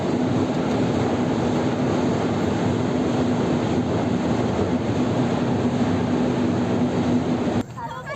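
A subway train rumbles along underground in a loud, constant roar with a steady hum, running unbroken for several seconds before easing off at the very end.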